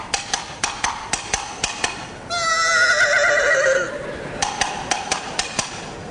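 A horse whinnies loudly for about a second and a half between steady clip-clop hoof beats before and after, a close, clean radio-play sound effect with no talk.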